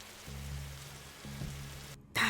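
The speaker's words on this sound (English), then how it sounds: "that rain is still so fucking loud" Steady rain falls in The Darkside Detective video game, a quiet, continuous patter with a low droning hum underneath, cut off briefly near the end by a sudden louder burst.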